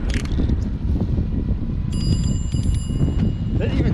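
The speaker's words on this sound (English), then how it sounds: "That even sounds beautiful with the bell." A bicycle bell on a Gazelle Arroyo Elite e-bike rings in a few quick, bright dings partway through, over steady wind rumble and outdoor noise.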